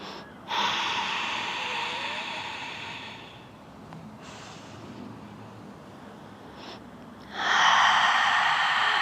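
Deep, audible breaths during a yoga flow, with a long exhale near the start, quieter breathing in the middle and another strong, airy breath toward the end, close to the microphone with no talking.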